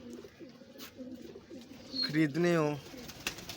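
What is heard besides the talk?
pigeons cooing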